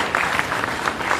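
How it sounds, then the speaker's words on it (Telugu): Brief burst of audience clapping at a free marriage event in a Thyagaraya Gana Sabha hall, fairly loud with uneven claps and no speech over it. "చప్పట్లు కొట్టండి హాయిగా."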